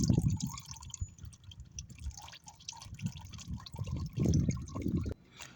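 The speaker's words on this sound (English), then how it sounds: "as you see, our oil now is just dripping" Motor oil drips from the drain plug of a Kia Sportage into a pan, making quiet irregular drips and trickles close by, under faint workshop noise.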